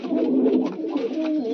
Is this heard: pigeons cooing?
yes